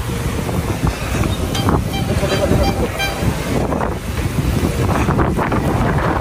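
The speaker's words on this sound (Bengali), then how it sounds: "বাতাস অনেক" Strong wind buffets the microphone along the road leading to Jomtien Beach in Pattaya, a steady loud roar throughout with people speaking over it.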